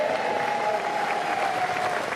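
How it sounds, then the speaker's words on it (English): Ministers and advisers applaud and cheer Boris Johnson as he leaves Downing Street, a steady wash of clapping from a crowd, close and continuous throughout. "His most loyal ministers and advisers here to cheer him off."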